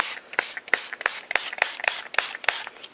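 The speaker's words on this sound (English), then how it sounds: "we're just gonna spray it" Short, sharp bursts of a spray bottle spraying ink onto Tyvek, about eight hissing squirts in a quick, fairly regular rhythm, close by.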